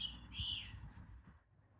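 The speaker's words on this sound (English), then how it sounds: "There's the birds again." Birds chirp in a garden in January, with a few bright, quiet calls early on over a low background hum.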